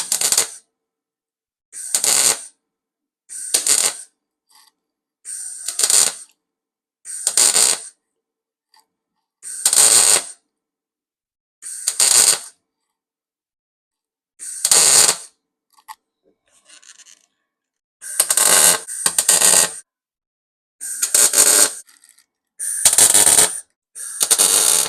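Repeated short bursts of welding on patch panels filling holes in a 1963 Chevrolet C10 truck cab, about a dozen loud crackling tacks separated by silent pauses.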